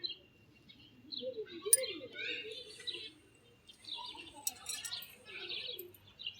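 Birds in a garden chirp and tweet in scattered bursts with a soft dove-like coo, moderately near but fairly faint against a quiet outdoor background.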